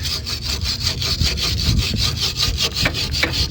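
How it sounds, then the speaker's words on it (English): A wire brush scrubs rust and flakes off the suspension of a Mk4 Ford Escort, a steady run of close, rhythmic rasping back-and-forth strokes with no talking. "You get a wire brush, you just scrub away."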